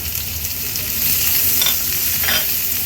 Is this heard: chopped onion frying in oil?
yes